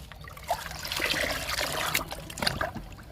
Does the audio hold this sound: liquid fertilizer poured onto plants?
yes